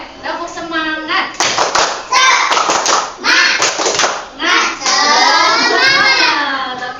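Schoolchildren in a classroom perform a rhythmic spirit clap, bursts of patterned clapping mixed with loud chanting young voices, alternating with a teacher's speech.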